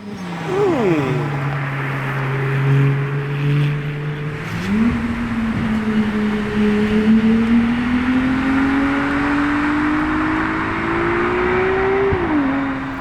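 Ferrari 296 engine droning close by in Maranello, pitch rising as it accelerates through gears and roars past, loud and steady with no talking.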